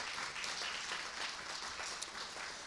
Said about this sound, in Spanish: Alguien le da un aplauso al Señor por eso.